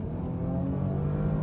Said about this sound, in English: Oh yeah, and with the Sport exhaust,